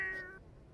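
A single short cat meow from The Sims 4 video game, clear and close, fading quickly into quiet.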